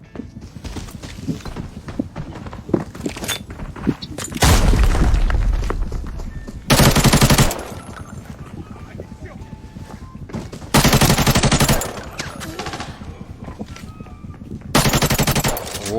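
Bursts of automatic gunfire from Arena Breakout, a first-person shooter, come in several loud broadband volleys separated by quieter stretches of game ambience and scattered single shots, with a player talking faintly in between.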